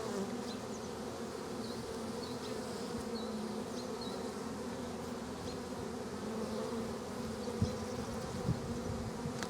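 Honeybees hum around a backyard beehive in a dense, steady buzz that holds for the whole stretch, with a few brief louder passes close by.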